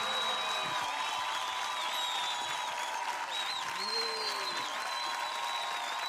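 A studio audience at a live televised singing show applauds and cheers after a performance, sustained clapping under lingering musical tones and a speaking voice.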